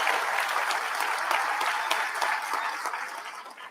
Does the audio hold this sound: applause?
yes